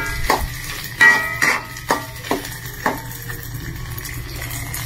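Pieces of food browning in a frying pan, with a steady sizzle and a series of spatula scrapes and clinks against the pan at irregular intervals, close and fairly loud.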